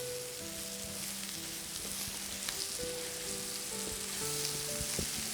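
Onions, a spice mixture and shredded cabbage fry together in a pan for a Gujarati cabbage sabzi, producing a soft continuous sizzle with faint scraping and stirring clicks, fairly quiet and unvoiced, with a low tonal hum underneath.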